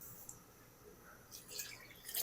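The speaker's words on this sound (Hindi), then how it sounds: "पानी मुझे कम लग रहा है तो मैं थोड़ा सा पानी और ऐड करूंगा।" Water poured into a pot of simmering chickpea curry with chicken, Lahori style: a faint, soft splashing trickle that swells in the last second, quiet and close.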